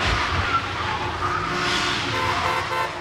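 A car pulls out beside a car wash with tires screeching, a steady loud roar of engine and skidding rubber lasting throughout, close by and with no talk.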